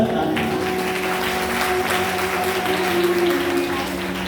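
Audience at a Shrimad Bhagwat katha applauding, a dense, steady wash of clapping that fills the clip from start to finish, with a sustained tonal hum from the hall's sound system running underneath.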